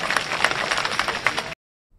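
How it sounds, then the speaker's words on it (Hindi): Crowd clapping at a political rally, a dense outdoor burst of many hands with sharp individual claps, steady for about a second and a half before cutting abruptly to near silence. "जरा इनके लिए भी ताली बजाओ"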